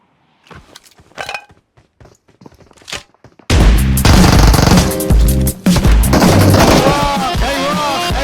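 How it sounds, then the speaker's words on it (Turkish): Shotgun and revolver gunfire in PUBG Mobile, a sudden barrage of loud, dense shots that follows a few seconds of quiet clicks and footsteps, with the firing continuing almost without a break. "Bir pompalı mermisi yedin. Üstüne bir revolver yedin."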